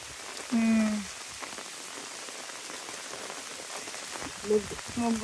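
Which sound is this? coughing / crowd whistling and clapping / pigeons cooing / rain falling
rain falling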